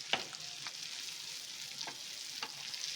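Bangda mackerel fries on a tawa with a soft, steady hiss of oil, broken by a few faint crackles and light scrapes, close and even throughout.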